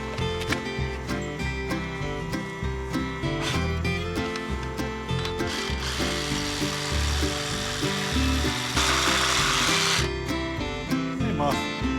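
A reciprocating saw cuts through an H-brace on a ranch fence line outdoors, with a rapid, steady buzzing stroke that runs continuously at close range and grows rougher and louder near the end.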